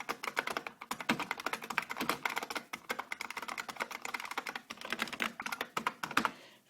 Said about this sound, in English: Clicky keys.